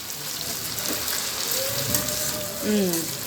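Sliced okra fries in a pan for an Andhra-style bendakaya fry, giving a steady close sizzle with occasional clinks of stirring. A faint voice can be heard briefly.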